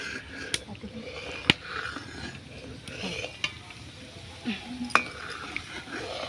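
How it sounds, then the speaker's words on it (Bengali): Sour yogurt whisked in a bowl makes soft, continuous scraping and stirring with sharp clinks of a spoon against the rim, with a voice talking faintly in the background. "এটাকে আমি সুন্দর করে ফেটে নেব। দইটা ভালো করে ফেটে নিয়েছি।"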